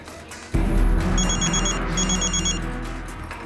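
A telephone rings in two short trilling bursts of electronic bell, heard over a low droning background with no voices.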